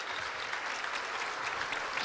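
A seated audience at a Turkish talk event claps steadily in a dense, continuous burst of applause, with no voices over it.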